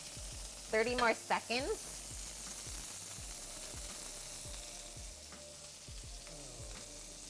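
A steak sears in a pan with a soft, steady sizzle held low in the background, while a voice speaks briefly near the start.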